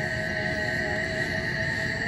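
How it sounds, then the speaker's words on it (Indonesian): Loud, dense drone of cicadas at night at a pine forest campsite, a steady buzzing chorus with bright sustained tones and no pauses, no voices. "Suara tonggeret yang lumayan riuh."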